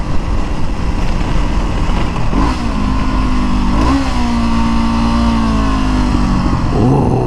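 A car engine revving loudly and steadily from inside or close by, its pitch rising and falling through gear changes, with sharp exhaust backfire pops breaking through the drone.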